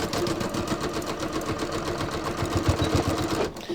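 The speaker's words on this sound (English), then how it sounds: "I'm just going to sew through my elastic." Sewing machine stitching through elastic on a yoga-pants-style waistband for jeans, a steady rapid mechanical chatter of the needle running continuously and close, pausing briefly near the end.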